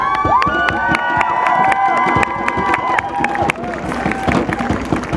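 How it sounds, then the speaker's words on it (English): A crowd at a rally for seven Black trans women claps and cheers, with dense sharp hand claps over whoops and shouts that ease slightly toward the end. "you're clapping now"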